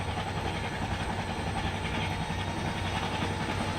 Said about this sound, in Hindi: बहुत ही बढ़िया हॉन्किंग के साथ निकलती हुई ट्रेन।